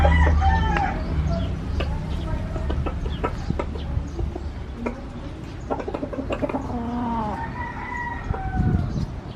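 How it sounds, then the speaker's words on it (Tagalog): A chicken-like pet bird clucks and calls close by at feeding time, a string of repeated rising and falling squawks over a low background rumble. "So I'm going to feed my bird."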